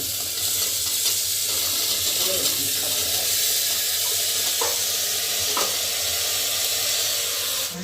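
Pointed gourd (parwal) sizzles loudly and continuously as it fries in hot oil, with a few soft clinks of stirring.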